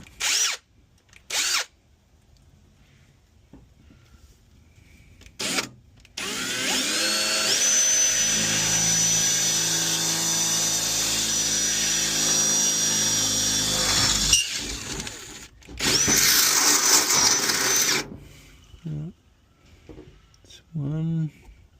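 A power drill whines steadily for several seconds while building a 12-volt power box, pauses, then runs again in a shorter burst, with scattered knocks and handling noises before and after.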